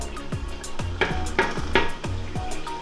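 Chopped onions stirred in a pot with oil and puree over low heat for Ghanaian jollof rice: a spoon scrapes and knocks against the pot in repeated strokes, with a soft sizzle underneath, close by and alone.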